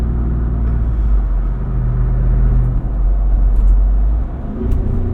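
A 2024 Jeep Wrangler Rubicon 392 Final Edition's V8 engine drones loudly and steadily while driving, a deep continuous rumble heard from inside the cabin, with no talking.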